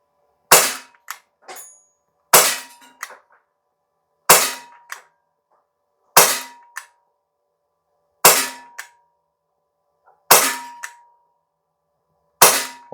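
Gamo P-430 CO2 pistol shooting BBs, seven sharp, loud cracks spaced about two seconds apart, some followed by a faint metallic ping or clatter, with silence between shots.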